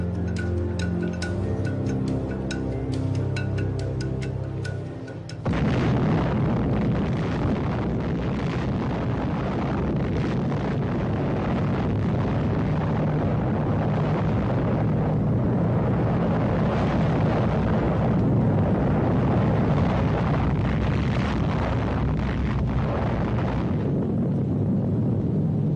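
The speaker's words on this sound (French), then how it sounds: "On l'appelle le gadget, une bombe à implosion contenant 6 kilos de plutonium." A plutonium implosion atomic bomb, the Gadget, detonates at its first nuclear test: a sustained, loud, deep roar rumbles on for over twenty seconds after a musical lead-in, with a constant dense low-end boom and no speech.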